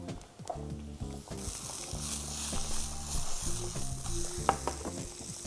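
Rice with a sprig of thyme sweats in olive oil, giving a steady soft sizzle under repeated scraping and clicking stirs from a utensil in the pan, with one sharper clink near the end.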